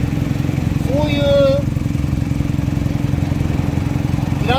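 An old Honda Hawk motorcycle engine, left unused for 37 years and now revived, runs at a steady close-up idle with a constant throbbing rumble and no stray metallic noise, while people talk briefly over it.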